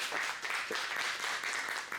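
Audience applause greets a guest at a political forum on public education, a brief, steady wash of many hands clapping at moderate loudness with no voices over it.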